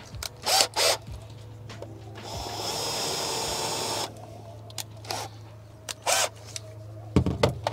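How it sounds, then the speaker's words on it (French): A power drill whirs steadily for about two seconds while boring a 13 mm hole, set among sharp bursts and clunks of handling and countersinking. "il faut déjà percer au diamètre 13. Ensuite, fraiser le perçage."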